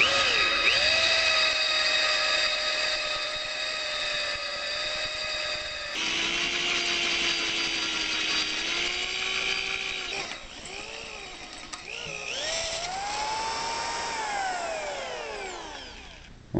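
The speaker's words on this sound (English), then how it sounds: "Now I use my 29/64 drill bit to drill my final hole." A power drill with a 29/64 bit bores a final hole while mounting an old Wilton vise on a pedestal, a steady high whine that dips under load and rises again as the bit cuts.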